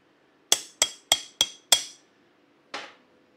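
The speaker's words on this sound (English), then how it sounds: "Chipping hammer." A chipping hammer knocks plasma-cut dross off metal cut by a Bestarc BTC500DP plasma cutter: five quick, sharp metallic raps close by, then a single strike after a pause.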